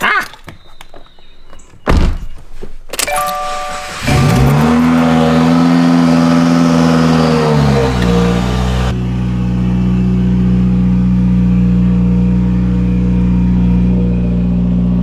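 A car engine with a newly repaired exhaust cranks with a few thunks, then revs up loud and steady before settling into a deep, droning idle close by.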